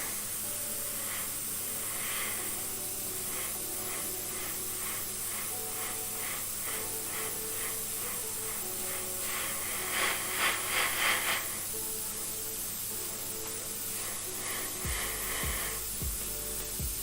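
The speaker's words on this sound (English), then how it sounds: "And then if we spray it over the top" A steady, close airbrush hiss spraying paint runs throughout, with brief louder spurts of spray partway through and a few low thumps near the end.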